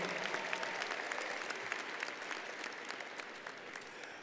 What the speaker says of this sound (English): Let's give them one more round of applause to our faculty